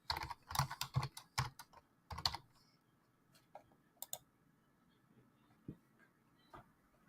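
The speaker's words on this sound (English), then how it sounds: "I gotta type that in real quick" Rapid bursts of typing on a computer keyboard, close and fairly quiet, clustered in quick runs of keystrokes early on, then thinning to a few scattered clicks and taps with no talking.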